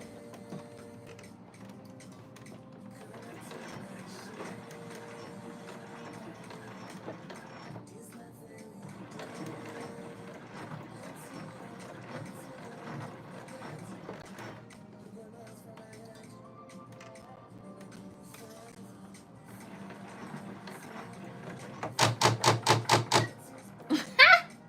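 A sewing machine is turned over slowly by hand crank while sewing a B5466 pattern project, giving a run of quiet mechanical ticks and clicks near the end, ahead of faint background sound.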